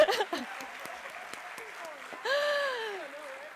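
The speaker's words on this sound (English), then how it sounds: "Give them a round of applause." Audience applause breaks out, loud at first, then a steady ripple of clapping under cheering and excited voices that swell again near the end.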